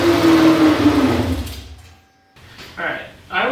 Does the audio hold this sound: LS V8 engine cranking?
yes